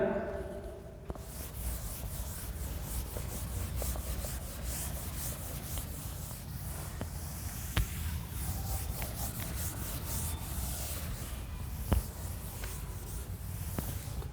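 A board is wiped clean in a classroom chemistry lesson, a steady soft rubbing that runs close and continuous for the whole stretch, with a couple of small knocks.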